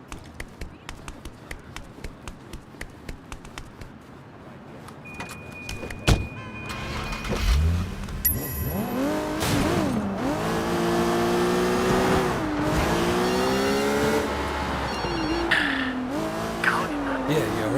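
Car engine revving and pulling away across a street in Sleeping Dogs, starting with faint clicks before the motor swells into loud, wavering revs through gear changes, up close with brief tire noise.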